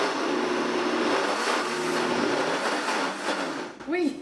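Kitchen blender grinding soaked rice for crispy rice fritters, a loud, harsh continuous whirring roar that runs steadily, then cuts off near the end with a brief rising whine as the motor stops.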